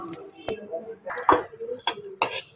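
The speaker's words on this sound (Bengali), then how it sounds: "দাঁড়াও ওই পাশে ইয়েটা প্রেসারটা নামিয়ে দিই।" A pressure cooker being lifted off a kitchen stove gives a handful of sharp metallic clanks and clinks against a low background hum, close by.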